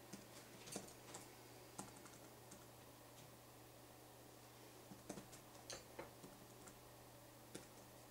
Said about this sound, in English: So I'll type the name.